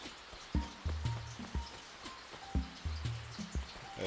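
Rain falls steadily in the Animal Crossing video game, a soft continuous patter under a repeating pattern of gentle plucked game tones.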